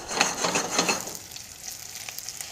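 Shallots and Swiss chard sizzle in a pot after pork chops, with a steady crackling fry for about a second that then quiets to a soft, faint sizzle with occasional pops.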